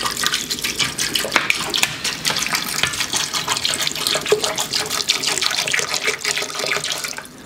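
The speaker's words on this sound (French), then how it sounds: "ensuite on va rajouter donc de l'eau" Water running steadily from a tap onto almonds for homemade almond milk, a continuous close splashing gush with small bright spatters, alone with no talking.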